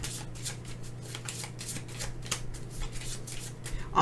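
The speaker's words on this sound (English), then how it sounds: "so then we discard, down, shuffle up because I don't have a draw pile" Board game cards for a solo game of Endless Winter being shuffled up, a soft repeated riffling close by over a low steady hum, with no talking.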